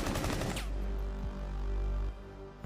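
A light machine gun in Rainbow Six Siege fires a fast, dense burst up front, then the sound gives way to lingering ringing tones and a low hum.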